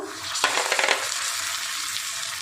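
Spices and tomato frying in a pan: a steady close sizzle with a brief burst of stirring and scraping near the start, then an even hiss.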